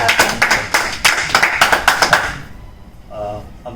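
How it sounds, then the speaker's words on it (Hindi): Audience at a Diwali poetry gathering bursts into brisk, rhythmic clapping for about two and a half seconds, then it fades as a voice begins speaking. "और तालियों को भी अब आदरणीय गंभीर जी का इंतजार"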